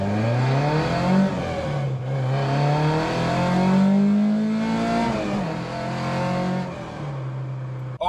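A car engine hums steadily and rises and falls in pitch as it accelerates through gears, loud and close, with no talking.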